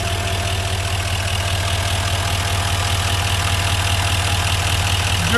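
A 2018 Chevrolet Silverado 3500HD's Duramax 6.6 diesel engine idles steadily and close by, a deep low rumble with a rapid knocking pulse, no voices.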